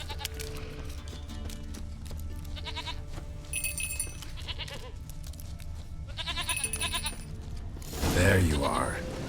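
In The Witcher 3, a goat bleats several times, with wavering, nasal calls spread across the scene and a louder, harsher cry near the end, over game ambience and music.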